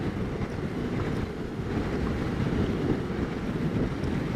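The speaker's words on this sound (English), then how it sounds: "This wind is killing me, though." Steady, heavy wind roar buffeting the microphone while riding a Suzuki V-Strom 650 motorcycle on a mixed dirt and paved road, loud, constant and rumbling with no pauses.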